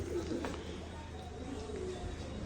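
Soft, low coos of velvet pigeons murmur against a muffled background hum, a few gentle calls close by.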